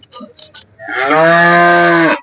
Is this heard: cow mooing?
yes